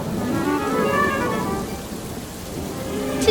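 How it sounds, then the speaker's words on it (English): Steady heavy rain pours down with a dense, even hiss throughout, with no voices. "Today is a day of heavy rain"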